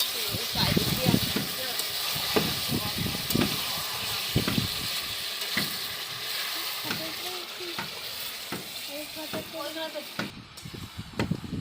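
Meat braising as kosha in a pan over a wood-fired clay stove: a continuous close sizzle with repeated rhythmic stirring and scraping strokes, and faint voices at times in the background.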